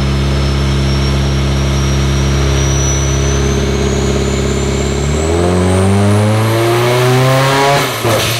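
A Nissan S15 Silvia on a dyno, fully built and turbocharged, revs hard and steadily climbing for about five seconds, then the tone shifts as it rises further near the end, loud and close with no talk.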